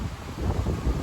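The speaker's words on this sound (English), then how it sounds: "This wind is something else." Strong gusting wind buffeting the microphone while kayaking on open water, a loud low rumble that swells and surges across the moment with no voices.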